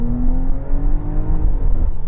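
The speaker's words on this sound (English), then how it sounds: "Let's do some acceleration here." A 2022 Porsche Cayenne S Coupe pulling hard toward its 6,500 rpm redline, a steady, loud engine drone rising in pitch heard from inside the cabin, with no talking over it.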